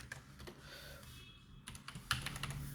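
Typing code on a computer keyboard, scattered clicks at first, then a quicker run of sharper key taps toward the end, quiet and with no talk.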